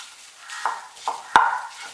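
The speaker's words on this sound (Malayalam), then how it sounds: "നന്നായിട്ട് നമ്മൾ ഇതുപോലെ ഇളക്കി കൊടുത്തുകൊണ്ടിരിക്കണം." A chicken cutlet mixture with mashed potato is stirred in a frying pan: three distinct scraping strokes over a soft sizzle, with no voices.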